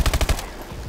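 A turret machine gun fires a quick burst of about five rapid, heavy shots in the video game Call of Duty: Advanced Warfare, followed by a short decaying echo.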